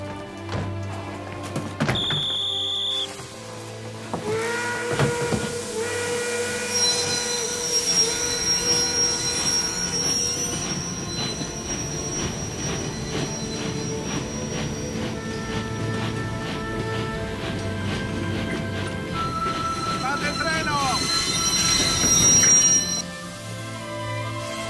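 A train rumbles and rolls along, with metallic squeals and high tonal whines layered over the low steady noise, fairly loud and sustained.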